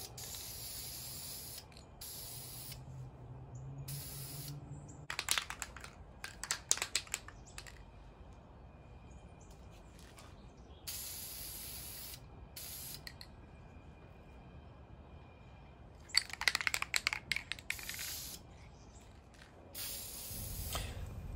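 Krylon spray paint hissing from an aerosol can onto miniatures outdoors on a cold, dry day, in several separate bursts with quiet gaps between them and some handling clicks.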